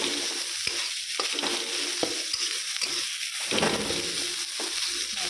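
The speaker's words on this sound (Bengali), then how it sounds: "ভাজা ভাজা হোক, সুন্দর ভাজা ভাজা হয়ে গেল" Constant crackling sizzle of food frying in a hot pan, broken by a few taps and scrapes of a utensil stirring.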